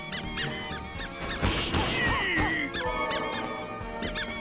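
Rapid, bright squeaky-toy attack sounds from toy shoes in Bloodstained: Ritual of the Night, repeating in quick bursts over a busy, dense game mix of music and combat effects.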